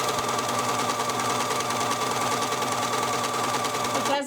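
A Brother serger sewing machine, just repaired of its noise, runs steadily at close range with a fast, even mechanical whir and patter for about four seconds before stopping abruptly.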